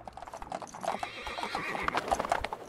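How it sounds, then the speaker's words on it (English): Horses in the Fallout London video game clop steadily on hard ground with a whinny mixed in, a dense, close run of hoofbeats with no talk over it. "Are these like regular horses?"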